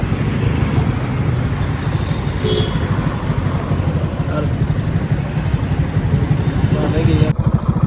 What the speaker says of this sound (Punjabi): ਮੋਟਰਸਾਈਕਲ ਚਲਾਉਣ ਦੀ ਮੇਰੀ ਟਰਨ ਹੈ